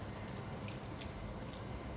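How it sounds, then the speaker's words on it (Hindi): A few tablespoons of water go into a pan of minced meat cooked with spices and tomatoes, making a soft, continuous watery hiss with no voices. "3-4 टेबल स्पून में पानी डाल रही हूँ इसको गलाने के लिए।"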